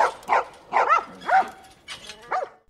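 Dogs in The Last of Us video game give a short series of barks mixed with whimpering yips, five or six close, distinct bursts.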